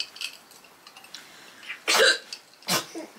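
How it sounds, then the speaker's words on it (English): A woman hiccups indoors, a few short, sharp, isolated gulping bursts separated by quiet pauses, close to the microphone. "I've had hiccups twice already today."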